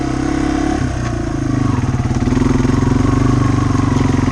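A Yamaha TW200 motorcycle with big quad tires rides through mud in first gear, its single-cylinder engine chugging loud and close with a steady, rapid pulsing throb that briefly shifts pitch before settling into an even beat.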